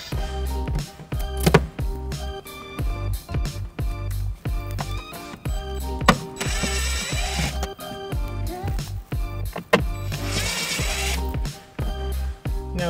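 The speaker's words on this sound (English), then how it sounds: "Now that we have our four screws out" A ratchet driver backs out screws from the rear threshold trim of a 2018 Ford Escape, giving steady, close, rhythmic clicking that runs throughout with a few sharper knocks.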